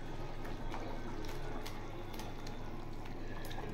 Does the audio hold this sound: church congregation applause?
no